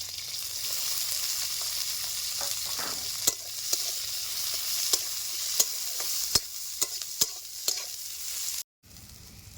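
Chopped onion and green chillies sizzle in a pan, a steady frying hiss with a spatula scraping and tapping at intervals, close and fairly quiet, cutting off briefly near the end.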